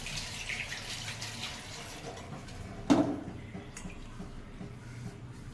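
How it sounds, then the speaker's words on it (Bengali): Water runs from a kitchen tap while tengra fish are rinsed, a soft steady stream with a sudden splash and a few wet squelches partway through, near and fairly quiet, no talk. "আচ্ছা, ট্যাংরা মাছ একটু ধুয়ে নিই।"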